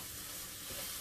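Jambalaya ingredients stirred around in a hot pan give off a steady, close sizzle and hiss that fills the whole second without pause, with no talking.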